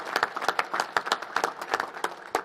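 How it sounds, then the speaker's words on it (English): Sparse audience clapping at a National Space Council meeting honoring the Smithsonian, individual claps distinct and uneven in rhythm, fairly quiet and somewhat distant, from a smaller group. "And let's give the Smithsonian another round of applause, will you?"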